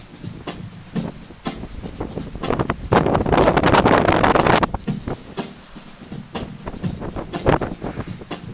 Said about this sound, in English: Jesus, this wind.